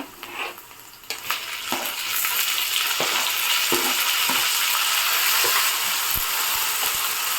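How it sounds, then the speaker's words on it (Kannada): Tomatoes and onions fry for a country chicken curry in a loud, dense sizzle, broken by repeated scraping stirs against the pan, close and without speech. "ಟೊಮೆಟೊ ಸಾಫ್ಟ್ ಆಗೋವರೆಗೂ ಚೆನ್ನಾಗಿ ಫ್ರೈ ಮಾಡ್ಕೊಳ್ಳಿ"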